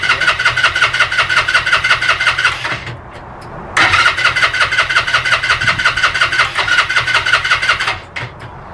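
A Suzuki GN125 motorcycle engine is cranked over with the starter, making a steady rhythmic churning that runs close and loud, briefly stops, then resumes for several more seconds without catching.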